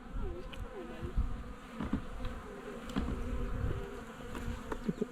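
Honey bees buzz steadily around an open Layens or long Langstroth hive during an inspection, a dense close hum with individual bees droning past, no talk.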